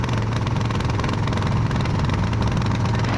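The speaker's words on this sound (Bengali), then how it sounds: "ভেসে যাচ্ছে আমাদের ট্রলার" A trawler boat's engine on the Padma river drones in a steady, loud, low rumble, continuous and close, with no voices over it.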